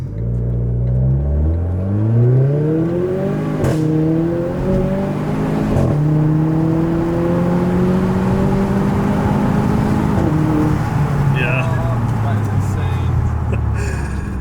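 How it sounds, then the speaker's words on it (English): A remapped Renault Clio RS engine climbs in pitch through a hard acceleration pull, one gear change briefly interrupting the rising rev, with road and wind noise and voices talking over the drone inside the car. "We'll do our first pull in a second"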